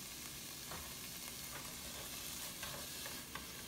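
Zucchini cooks in a pan with sauce, giving a soft, steady sizzle and bubbling that holds an even level throughout, with a few faint clicks of stirring and no voices.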